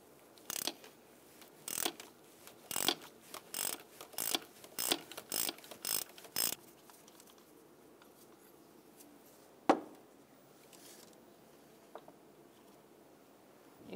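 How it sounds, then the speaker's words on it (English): A ratchet with a 19mm socket clicks through a series of close, quick bursts while loosening the coolant temperature sensor on a 2000-2007 Ford Taurus, followed by a single metallic knock and quiet handling. "19mm socket, we're going to remove our coolant temperature sensor"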